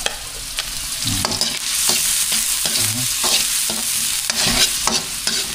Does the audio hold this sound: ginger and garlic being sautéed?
yes